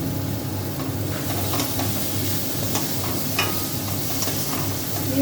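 Ingredients fry in hot oil with a steady, dense sizzle and occasional stirring scrapes, continuous and close with no talking.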